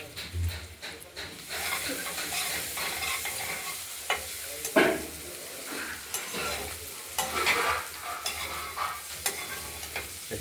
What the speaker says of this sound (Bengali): একটু পোড়া পোড়া ভাবে ভাজতে হবে